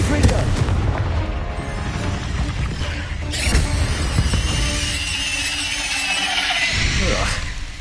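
Confringo blast spells in the Hogwarts Legacy video game: loud booming impacts and crackling bursts layered over dense game effects, with a voice casting spells in between.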